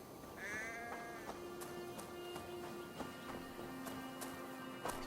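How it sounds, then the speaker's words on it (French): A sheep bleats repeatedly in Assassin's Creed Valhalla, several distressed cries over a steady outdoor game ambience with faint intermittent clicks. "Ça ressemble à un mouton. Et plutôt désemparé."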